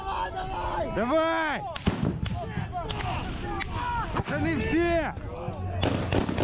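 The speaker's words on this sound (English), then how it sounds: "grenades are exploding inside the river" Sharp blasts and gunshot cracks burst out repeatedly amid shouting voices during a Ukrainian river crossing, with grenades exploding in the river and dense, chaotic noise throughout.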